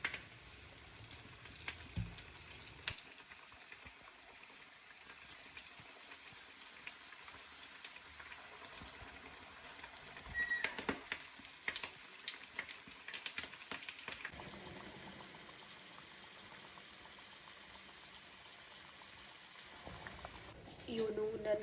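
Chili bajji, mirchi fritters, frying in hot oil with a low, steady sizzle and bubbling that continues throughout, fairly faint, with a few clatters and voices talking nearby.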